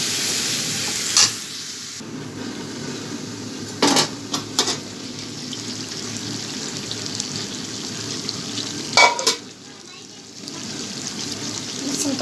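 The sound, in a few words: spice masala and cucumber being sautéed for prawn curry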